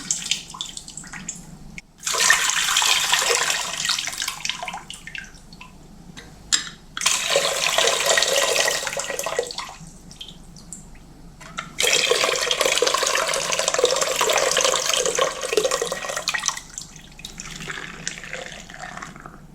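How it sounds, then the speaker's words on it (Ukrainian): Water pours steadily from a jar back into a pot in three long streams separated by short pauses, splashing close and fairly loud, while making pickled cucumbers. "зливаю ось цю водичку назад до каструльки"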